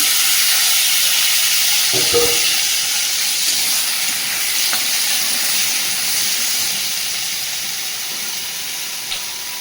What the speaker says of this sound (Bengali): মাছের মাথাটা দিয়ে দিয়েছি, আবার একটু ঢেকে দেবো।